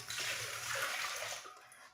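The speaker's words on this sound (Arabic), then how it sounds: "نصب الماء" Water poured into a glass jar packed with canned tuna and oil for home preserving, a steady splashing gush filling the jar up close that eases off toward the end.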